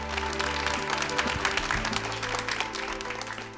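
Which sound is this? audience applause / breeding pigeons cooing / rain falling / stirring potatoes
audience applause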